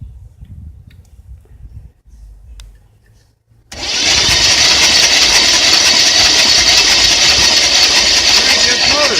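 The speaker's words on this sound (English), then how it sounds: "crank this motor" A 1966 Chevrolet Impala engine, with the transmission and torque converter bolts out, cranks over and runs loud and steady after a few seconds of quiet low rumbling and shuffling.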